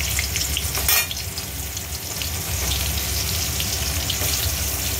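Slices of pointed gourd (potol) sizzle steadily in hot oil left from frying rohu fish, a dense continuous crackle with occasional stirring, close and fairly loud throughout.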